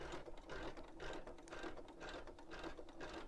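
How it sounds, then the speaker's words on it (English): A sewing machine stitching basting thread, a steady close whir with fast rhythmic needle clatter running continuously and alone. "it is now stitching my basting thread"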